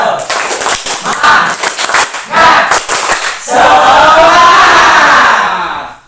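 A group at a teacher training session claps a rhythmic spirit-clap chant, sharp patterned claps breaking into a loud, sustained group cheer that fades at the end.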